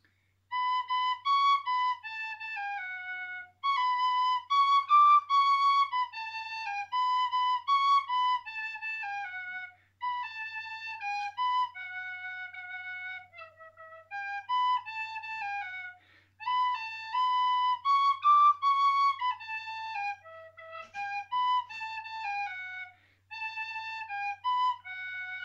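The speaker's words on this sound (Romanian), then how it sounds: "Și în fine, un fluier în mi." A Romanian shepherd's flute in E, with four open holes, plays a lively folk tune in clear breathy whistling phrases, separated by short pauses, solo and close.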